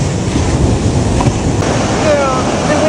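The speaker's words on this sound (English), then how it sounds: "Girl, the waves are so inspiring." Ocean waves break on a Miami beach as a steady, loud surf wash, mixed with wind rumble against the microphone and some faint voices.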